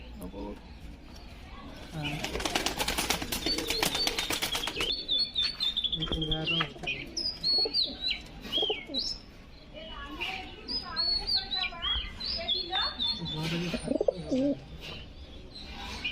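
Pigeons coo and flutter close by, soft repeated coos with a burst of wing flapping early on, while someone talks over them.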